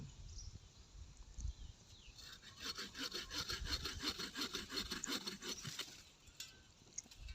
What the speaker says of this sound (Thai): นี่กิ่งใหญ่ๆก็ใส่เลื่อยเลยครับ